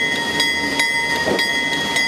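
A train on the Arkansas-Missouri Railroad, running through the Boston Mountains, gives a steady rolling rumble with faint rhythmic clicks from the wheels, continuous and fairly close.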